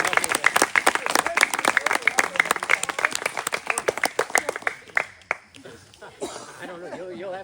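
Audience giving a round of applause, close individual claps in a quick uneven rhythm with some chuckling, thinning out before a voice starts speaking.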